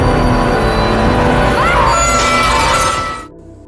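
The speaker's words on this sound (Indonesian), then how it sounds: "Casey akhirnya berteriak hingga menyebabkan cermin pecah." A mirror shatters with a loud, dense crash of breaking glass that rings on for a few seconds before stopping abruptly, in a dramatic scene.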